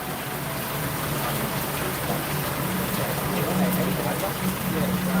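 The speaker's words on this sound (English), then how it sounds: "It's rain and a bus." Dense, steady rain patter with a bus fills the clip with a low rumbling undertone, constant and fairly loud throughout, in Da Nang, Vietnam.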